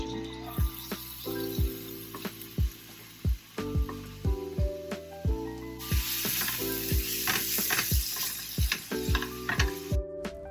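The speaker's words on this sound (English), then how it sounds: "I'm gonna begin cooking my white onion" White onion frying in olive oil in a pan: close, continuous crackling sizzle broken by a steady run of sharp utensil taps and scrapes, with the sizzle swelling louder toward the end before a sudden cut.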